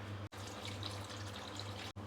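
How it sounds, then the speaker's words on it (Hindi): Hot water pours steadily into a cooking vegetable dish, a soft continuous splashing stream with brief breaks at the start and end, faint and close with a low hum beneath and no speech. "गर्म पानी ही डाल दिया है"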